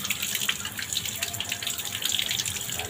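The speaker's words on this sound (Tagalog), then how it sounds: "Buti katabi ko yung gripo." Water runs steadily from a tap, a close, continuous splashing stream with small fluttering variations, with no talking over it.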